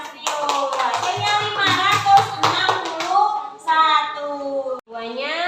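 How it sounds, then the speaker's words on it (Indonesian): Children in a classroom maths lesson clap for a classmate named Rio. Brief, uneven clapping comes early and sits under loud, overlapping children's voices that chant and talk throughout. "Tepuk tangan buat Mas Rio"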